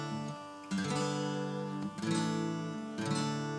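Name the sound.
major chord progression played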